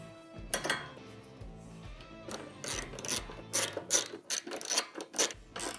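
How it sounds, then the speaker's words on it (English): A half-inch socket ratchet tightens bolts while installing an expedition rack on a Can-Am Commander, with short bursts of quick clicking pawl ratcheting and faint metallic clanks, close and moderately quiet. "Now I'm gonna grab that half inch socket and ratchet."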